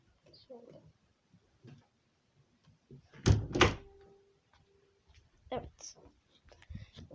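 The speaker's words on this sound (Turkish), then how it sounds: "İlk önce bir saniye kapıyı kapatayım ben." A door is shut indoors with a solid thunk and brief rattle, loud against quiet room tone, with a few softer knocks and shuffles around it.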